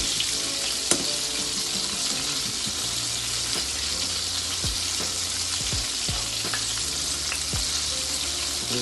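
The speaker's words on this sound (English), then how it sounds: "We're gonna let those bad boys fry." Bakes frying together in one big frying pan, a steady close sizzle and crackle with occasional spatter pops, no talk over it.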